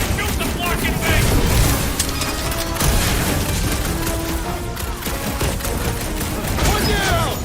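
Rapid gunfire rattles continuously in the Guardians of the Galaxy video game as shots pour into an enemy base, loud and dense with booming impacts and clanking effects layered throughout.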